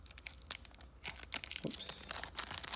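Foil wrappers on Pokemon trading card packs are torn and opened, giving continuous close crinkling and tearing with sharp bursts throughout, fairly quiet and with no talking over it.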